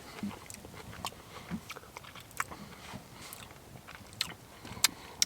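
Someone chews a cooked prawn up close at a snowy winter bushcraft camp, with soft irregular crunching and biting sounds and a few sharper clicks over a quiet outdoor background.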